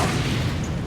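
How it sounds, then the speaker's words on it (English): Fire grenade bursting in Metal Gear Solid 4, a dense low boom that rolls on as a steady, loud rumble for the whole moment, with no voices over it. "so I'll use a fire grenade."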